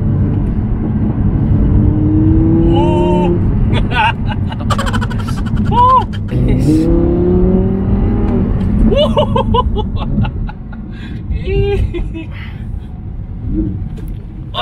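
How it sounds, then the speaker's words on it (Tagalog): An Audi R8 V10+ exhaust in sport mode, loud and close, a steady droning roar with rising and falling rev sweeps, under excited talk and exclamations from people inside. "I-loud natin ang ating exhaust, sport."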